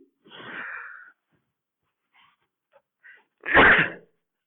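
A single sharp, loud sneeze bursts out near the end, after a softer breathy wheeze and a few faint clicks.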